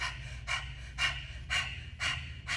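Slow belly breathing with repeated nasal inhales, five soft airy breaths at an even pace of about one every half second, close and quiet with a faint low hum underneath.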